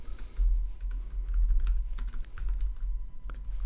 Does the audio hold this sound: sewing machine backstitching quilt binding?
no